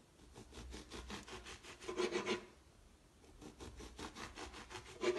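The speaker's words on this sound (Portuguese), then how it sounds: "Vou cortar na espessura da preferência de vocês, tá?" A knife saws through a loaf of bread for toast with steady back-and-forth rasping strokes, close and clear with a brief pause midway, no talking.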